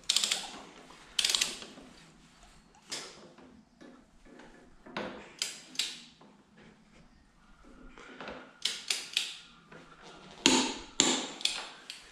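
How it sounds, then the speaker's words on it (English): Torque wrench tightening a front axle bolt on a Harley-Davidson Sportster motorcycle, giving a series of sharp ratcheting clicks in short bursts with quiet gaps between them, close by and fairly quiet. "let's tighten the axle bolt up. So put the torque value in,"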